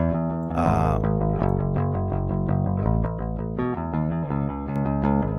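A bass guitar line played through amp simulation, a steady run of full, warm, slightly driven notes with no pauses.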